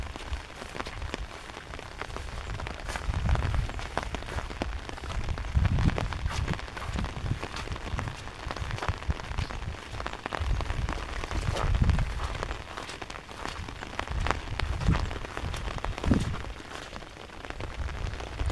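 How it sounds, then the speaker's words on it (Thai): Steady rain pattering over rice fields, a dense close hiss of drops with soft low thumps rising and falling throughout, no voices. "ฝนตกแบบนี้"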